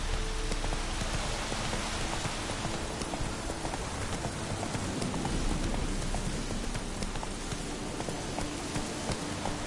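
Geralt's horse Roach trots through a rainy outdoor scene in The Witcher video game, steady clip-clop hoofbeats nearly buried under a constant hiss of rain on surfaces throughout.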